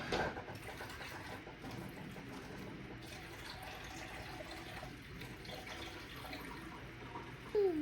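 Water runs from a tap in a small home kitchen, a soft continuous splashing flow that stays low and even throughout, with a brief faint clatter near the end.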